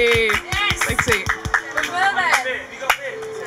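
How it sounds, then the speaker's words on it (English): A small group at an outdoor festival talk stall on a seafront gives a short burst of scattered clapping, mixed with cheering voices and chatter that carry on as the claps fade. "Let's give them a round of applause."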